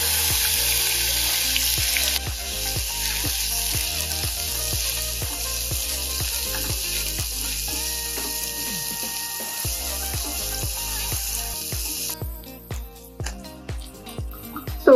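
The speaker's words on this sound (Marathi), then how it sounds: "तेलामध्ये आपण सोडे तळून घेऊया." Dried shrimp (sode) frying in hot oil in a pan, a loud continuous sizzle with rhythmic scraping taps of a stirring spoon, the hiss changing character partway through.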